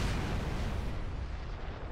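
Background explosions from a war at an Erebonian Empire military base in Trails of Cold Steel form a thick, rumbling roar. It stays loud and unbroken, then thins slightly near the end.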